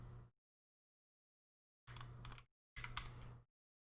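Quick bursts of typing on a computer keyboard come in three clusters of close key clicks, separated by pauses of silence.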